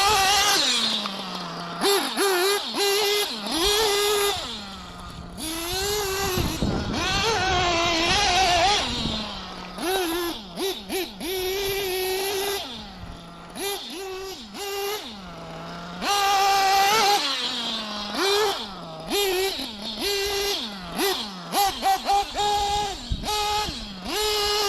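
A Kyosho MP10 electric truggy and a nitro buggy run around a motorcycle parking area. Loud, close engine whine rises and falls in repeated revving bursts as the cars accelerate past, with short gaps between passes.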